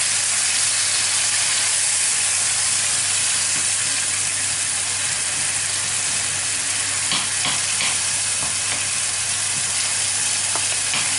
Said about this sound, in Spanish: y lo vamos a sofreír un poquito con los ajos.